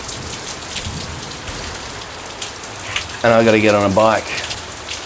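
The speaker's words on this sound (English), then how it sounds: "It's raining." Steady rain falls on a city street in Japan, a dense even hiss that runs throughout, with someone speaking briefly over it near the end.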